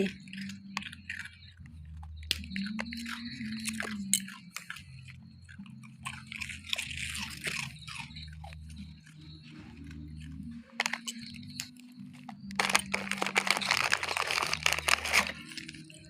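A dog chewing and eating food, with soft crunchy bites and mastication sounds that grow denser toward the end, fairly quiet under a low background hum.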